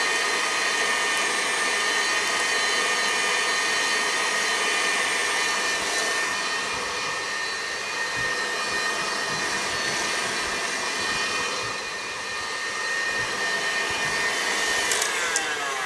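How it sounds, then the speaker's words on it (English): A KitchenAid stand mixer whipping Gorgonzola butter runs as a steady, loud whirring motor hum with no pauses. "it allows it to be a little bit easier to mix in this KitchenAid because you have more ingredients"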